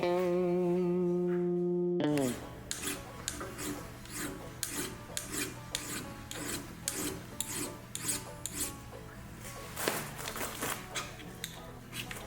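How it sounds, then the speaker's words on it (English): A hand file rasps across a metal part from a 1961 David Bradley axle, with a rhythmic series of short close strokes after a brief tonal hum at the start. "All right, let me get a file."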